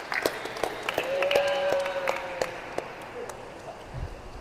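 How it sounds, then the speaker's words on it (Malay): A small class gives scattered, fairly quiet clapping for a pupil named Jad during a physical education micro-teaching lesson, with individual claps standing out and faint voices in the background. "Bagi tepukan untuk Jad."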